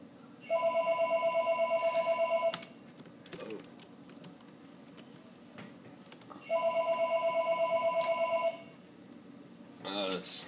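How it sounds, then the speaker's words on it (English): A telephone rings in a Minecraft Crazy Craft game, two loud electronic ringtone bursts of about two seconds each separated by a quiet gap, with faint clicks and brief speech in between. "Let the phone ring. Let's leave it."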